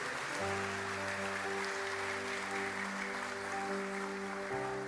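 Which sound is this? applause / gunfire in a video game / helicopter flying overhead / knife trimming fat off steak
applause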